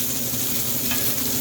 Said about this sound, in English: We're gonna let this butter kind of cook down a little bit.